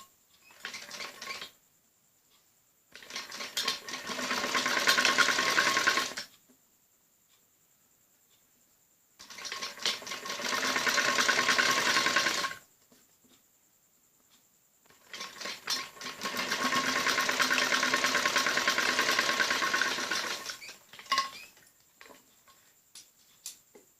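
A sewing machine stitches the neck of a kameez in three bursts of rapid, steady whirring, with short pauses between runs as the machine is lifted and restarted.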